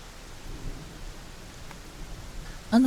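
Steady rain hisses through a horror video game set around a haunted property, a constant soft wash of falling water with a brief louder tonal sound at the very end.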